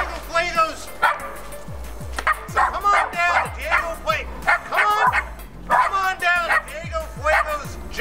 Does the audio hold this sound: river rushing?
no